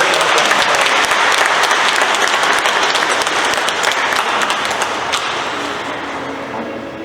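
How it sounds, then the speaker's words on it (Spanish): A wedding congregation claps loudly and steadily for the newlyweds, the applause holding strong before gradually fading toward the end. "demos gran aplauso para nuevos esposos"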